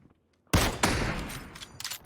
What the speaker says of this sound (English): Both popping a shot at each other there, but no connections.